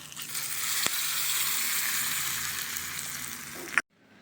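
Curry leaves sizzle hard in hot tempering oil after the mustard seeds have popped, for a peanut and onion-tomato chutney: a steady, close, loud hiss that stops abruptly near the end.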